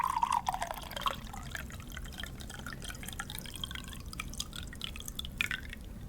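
Water is poured over a towel on someone's lap, giving faint dripping and soft trickling at close range over a quiet background, with no speech.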